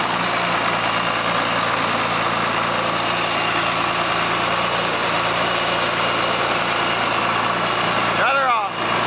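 A John Deere 4430 tractor engine idles steadily at close range, a continuous even rumble that holds for most of the stretch before a brief disturbance near the end.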